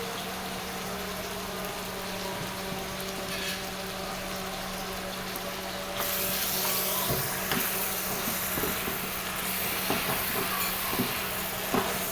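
Cauliflower stems and potatoes drop into spiced oil in a pan, a low steady sizzle that jumps louder about halfway through, followed by light stirring scrapes and crackles, with a faint hum underneath.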